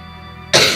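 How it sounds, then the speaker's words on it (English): A single sharp, loud cough bursts out after a moment of quiet room hum, close to the listener. "I'm gonna cough a lot tonight"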